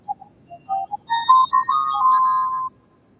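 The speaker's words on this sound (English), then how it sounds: "I think that's my doorbell" A doorbell chimes in a home, a short sequence of bright electronic tones rising into a sustained melodic ring lasting about two seconds, clear and alone over faint low background hum.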